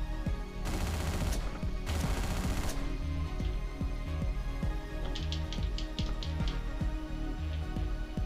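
Gunfire in Hotline Miami: a couple of dense automatic bursts early on, then a quicker patter of lighter shots over steady game music.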